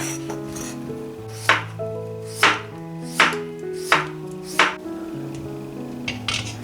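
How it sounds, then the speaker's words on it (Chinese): A knife chops pumpkin into thin slices or small pieces on a cutting board for a pumpkin pie: five crisp, evenly spaced cuts stand out over soft background music, each a sharp close knock. "南瓜切薄片或者小块，方便蒸软。"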